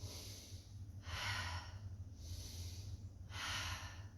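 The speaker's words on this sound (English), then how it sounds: "So if I'm here and I'm belly breathing," Slow, deliberate diaphragmatic belly breathing during a breathing demonstration, three soft breaths heard close up as airy rushes, alone with no talking.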